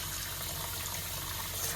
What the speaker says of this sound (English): we got hot running water